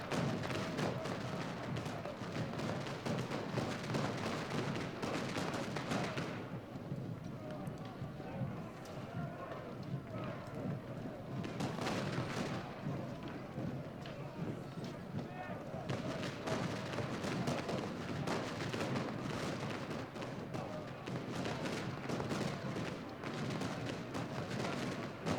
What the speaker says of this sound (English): We've got these cannons over here shooting into Archer's Brigade.